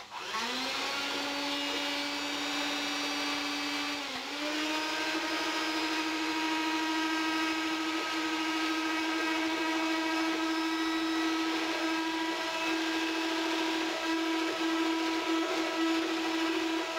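Electric hand whisk beating pancake batter in a bowl, a steady high motor whine with rich harmonics running continuously and loud, dipping briefly in pitch once early on before settling back to an even drone.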